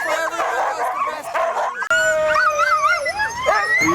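Iditarod sled dogs howl, yip and bark together, a chorus of rising and wavering howls with overlapping higher yelps, fairly close and loud.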